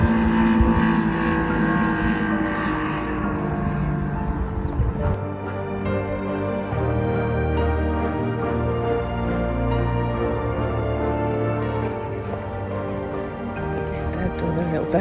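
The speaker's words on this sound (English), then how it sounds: "Motorbikes love it on here." Loud motorbike engines roar past close by on Winnats Pass, a rising and falling drone with rumbling low tones, and a voice speaks over the noise.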